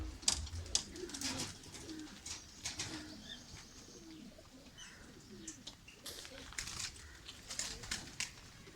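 Pigeons coo softly close by in repeated low calls, with occasional wing flaps and light chirps around them.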